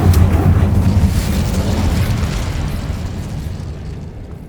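Fire spell blast in the video game Hogwarts Legacy, a loud booming burst at the start that rolls into a long, rumbling roar and slowly fades over several seconds, with no talking.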